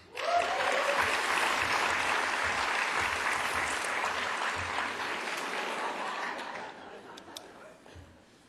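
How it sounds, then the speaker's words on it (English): A large crowd at a university graduation celebration applauds warmly, the clapping swelling quickly and holding steady before tapering off, with a few chuckles and murmurs mixed in near the end. "one more round of applause for the faculty and the students of International Affairs"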